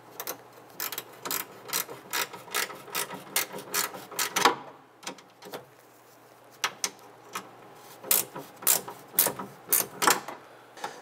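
Nuts being tightened down with a ratchet on the liftgate door handle of a 1995-2001 Ford Explorer, a close run of quick, regular mechanical clicks in two bursts separated by a short pause.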